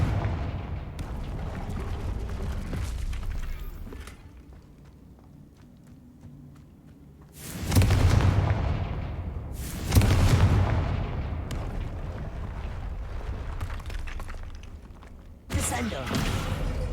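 Several booming explosions from the Confringo blasting spell in the video game Hogwarts Legacy, each a loud, sudden blast with a rumbling decay, separated by quieter stretches of game ambience and movement.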